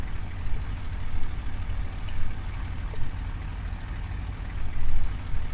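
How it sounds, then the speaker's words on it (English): Aircraft engine in a flight simulator game powering up as the throttle is gradually increased, a steady low droning rumble with slight swells in loudness, heard alone without talk. "I'm going to start increasing the throttle a little bit by bit. You can hear the engine powering up"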